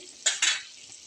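Butter melts in a pan for butter chicken, giving two quick soft sizzling scrapes close by, followed by a faint low hiss.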